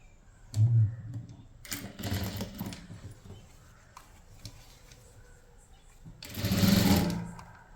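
An electric sewing machine stitches the sleeve of an umbrella-style chudithar top in short bursts, a near, rapid whirring run repeated about three times with quiet gaps between.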